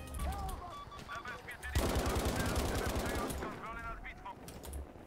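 STG assault rifle fire in Battlefield V multiplayer on the Rotterdam map, a sustained burst of rapid automatic shots in the middle with quieter game ambience and scattered effects before and after.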